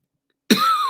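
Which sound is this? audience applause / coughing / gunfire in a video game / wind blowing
coughing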